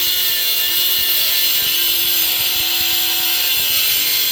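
A cut-off wheel slicing through material during a timed test, a steady high, loud grinding whine with a faint tonal hum underneath, continuous and close, with no talking.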